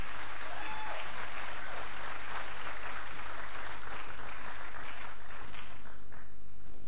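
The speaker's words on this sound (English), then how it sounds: "Please, let's clap for them." Applause for a microfinance bank at a live-streamed event, a sustained crowd of clapping hands that fills the room and then quickly dies away near the end.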